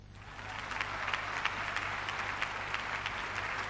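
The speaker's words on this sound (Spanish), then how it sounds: "Aplausos." Steady applause from a crowd at a televised gold medal presentation, a dense even wash of many clapping hands heard from a distance with a low hum underneath, without speech.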